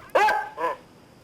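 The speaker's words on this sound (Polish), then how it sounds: "I wtedy zobaczyłem psa." A dog in a Goosebumps video game gives two quick close barks, the first louder and sharper, the second softer, then silence.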